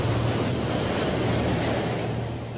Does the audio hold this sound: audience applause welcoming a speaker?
no